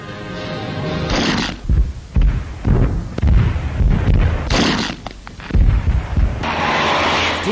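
Stuka dive bombers attacking Soviet tanks, with a series of loud booming explosions and blasts in irregular bursts over a constant roaring din, in old wartime newsreel sound.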